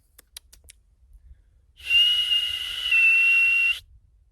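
A person whistles outdoors on the Spanish Meseta along the Camino de Santiago, one loud, sustained shrill tone lasting about two seconds after a few faint taps, close and alone.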